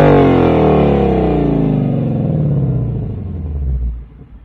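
Ford Mustang GT V8 with active valve performance exhaust in track mode, recorded from outside the car: a loud, deep rev rising then settling into a steady rumble before tapering off, with no voices.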